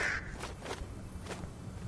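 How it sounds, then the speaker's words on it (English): A crow cawing in the video game GTA 5, several rough caws spaced apart over faint background game noise, fairly close and moderately loud. "Damn bird."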